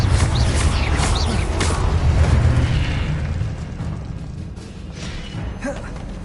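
A fiery Confringo spell blast from the video game Hogwarts Legacy erupts in a loud, rumbling boom that rolls on and slowly fades with crackling debris, heard alone without talk.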